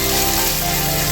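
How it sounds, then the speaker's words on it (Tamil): Tamarind and coriander leaves sautéing in a pan, a dense, loud, steady sizzle heard close up for a brief moment with no talking. "கொத்தமல்லியும் அதிலே போட்டு லைட்டாக வதக்கணும்."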